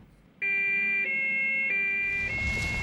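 Police sirens wailing: a loud, steady electronic siren tone that shifts pitch in a few stepped changes, close and sustained, with a noisy hiss rising near the end.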